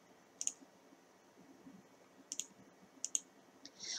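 Sharp, isolated clicks from a computer mouse during photo editing in PhotoScape X, coming in small pairs and singles with quiet gaps, close and fairly faint against a soft room background.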